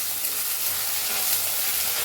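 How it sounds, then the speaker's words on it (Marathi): Onion with ginger-garlic paste fries in a pan while being stirred, giving a steady, close, continuous sizzle with soft stirring scrapes and no talking. "आता याला हलवून भाजून घेऊया।"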